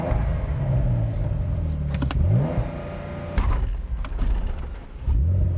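A Porsche with a manual transmission and rear steer revs hard in a failed burnout attempt, a loud, rumbling engine rising and falling in several sweeps with a steady idle drone underneath.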